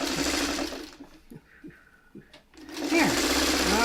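A sewing machine joins mini quilt patches in two short runs, one at the start and one at the end, with a quieter gap between them that holds faint handling sounds.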